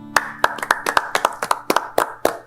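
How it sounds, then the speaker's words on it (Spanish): Steady rhythmic clapping, many hands striking together in an even beat, close and lively, with no talking. "Un aplauso a Jesucristo el Señor."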